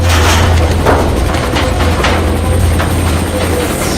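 A helicopter roars loudly and steadily nearby, its rotor giving a continuous low thrum with rhythmic chopping pulses.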